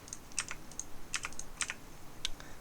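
Keys tapped on a computer keyboard during a GIMP editing session, a quick cluster of sharp clicks followed by a few separated presses, close and fairly quiet with no talking.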